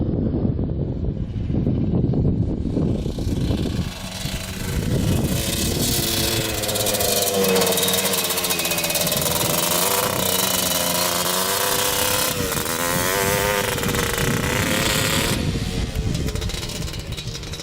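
A Kawasaki Tecate 250cc two-stroke quad runs steadily and loudly nearby, its engine buzzing and rattling with a slightly boggy, uneven tone that holds throughout without speech.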